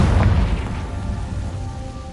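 A Confringo blasting spell goes off in Hogwarts Legacy as one loud boom at the start, then a rumbling tail that fades slowly.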